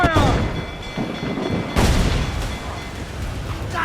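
Heavy ship cannons boom in Assassin's Creed IV as a broadside hits a fleeing slaver ship, a loud blast at the start and a second at mid-clip, each rolling into rumbling noise.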